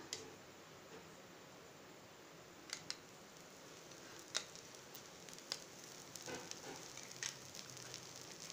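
Dosa batter frying in oil on a pan gives a soft, steady sizzling hiss, with occasional small crackles and pops rising above it.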